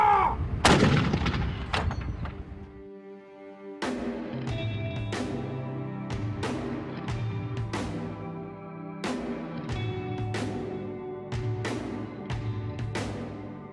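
A WWII artillery gun fires from a fortification in Gibraltar: a heavy, loud blast opens, then a series of booming, ringing reports follows at a steady rhythm with no talk.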